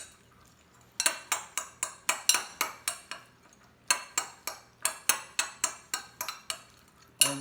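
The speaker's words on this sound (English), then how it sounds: "Now you're going to stir." Microwave mac and cheese stirred in a bowl with a utensil, rapid rhythmic clinks and scrapes in two quick bursts of about a dozen strokes each, close and clear with no talking.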